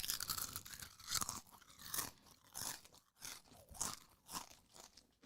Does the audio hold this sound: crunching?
yes